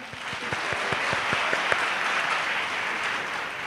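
An audience claps for a kirtan performer: rhythmic, evenly spaced claps at first, soon blending into steady, dense applause that holds to the end.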